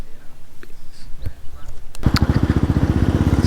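A Royal Enfield Classic 350 motorcycle on an early morning ride starts faint under wind noise, then its single-cylinder engine thumps close and steady with a rapid, even pulse.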